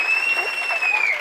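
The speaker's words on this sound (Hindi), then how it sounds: "एक दफा भरपूर तालियां।" Audience applause at the close of a comedy talk show, a short steady burst of clapping throughout, with a faint voice or whistle-like tone carrying over the top.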